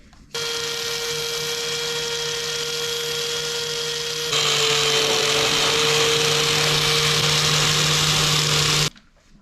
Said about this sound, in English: I'm going to go ahead with my wire wheel here and try to remove any of this like old residue that's left on here